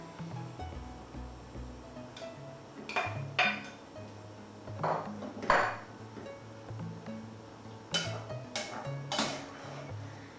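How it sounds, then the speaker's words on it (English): Halved apricots, dates and figs go into a pan of simmering oranges, giving a few soft clinks and taps of a utensil against the pan, quiet and sparse, with a low bubbling underneath. "I'm now going to add the apricots, dates and figs."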